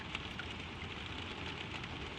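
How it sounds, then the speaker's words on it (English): Soft, steady rain falling on a stable roof, a continuous even patter heard alone with no voices, gentle and somewhat distant. "The rain comes down on the roof above the two of you, soft and steady and far away"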